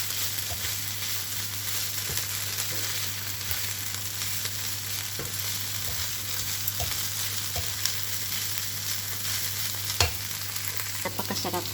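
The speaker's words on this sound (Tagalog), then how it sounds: "Ilalagay na natin yung rice na may mix with egg," Rice mixed with egg fries in a pan for fried rice, a constant close sizzle broken by scattered light clicks of stirring and scraping.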